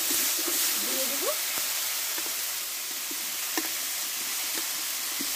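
Sautéed vegetables tipped into hot spiced oil fry with a steady, close hiss and sizzle, broken by light utensil clicks, with a brief voice over the top.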